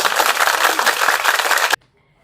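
A classroom does a clapping game, the students clapping together in a loud, dense burst that stops abruptly, leaving near silence with a faint tone.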